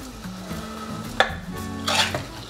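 A utensil stirs salted zucchini pieces around a pan, scraping and clinking against the metal in short strokes over a soft background hum.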